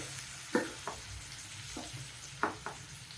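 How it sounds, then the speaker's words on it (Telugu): Ground masala paste of coconut and coriander frying in a pan for aloo egg kurma, a soft sizzle under a few distinct stirring scrapes of a spoon, quiet and close. "కొంచెం బాగా ఫ్రై కావాలి, పచ్చి వాసన పోయేటట్టు."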